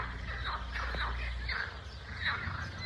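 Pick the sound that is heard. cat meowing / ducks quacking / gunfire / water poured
ducks quacking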